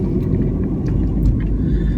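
Steady, loud low rumble of a diesel engine and tyre roar heard from inside the cabin of a 2014 Ford Fiesta 1.6 TDCi van while driving, with thin sound deadening and no talking.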